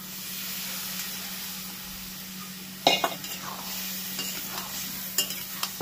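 Boiled taro (man kochu) tipped into a pan of fried spices and stirred, giving a continuous hissing sizzle with sudden clattering scrapes of the spoon midway and again near the end.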